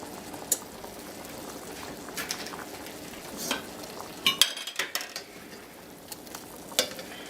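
Ground beef frying in a pan for hamburger mac and cheese, a steady close sizzle with scattered clinks and scrapes of stirring, no voices.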